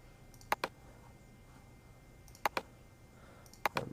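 A computer mouse clicking on a desk, three quick pairs of sharp clicks spaced a couple of seconds apart, close and crisp over faint room hiss, with no voices.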